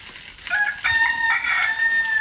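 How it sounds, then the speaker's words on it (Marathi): A rooster crows loudly and nearby in a drawn-out call, set against a steady background hiss of morning ambience. "हाच तो ओरडत असतो त्याला समजलंय मी आता ब्लॉग चालू केला तर तो ओरडतोय तिकडे आहे कोंबडा"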